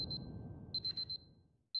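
An alarm beeps in the video game Superliminal, bursts of rapid high electronic beeps in quick clusters separated by short gaps, over a fading low rumble, fairly quiet.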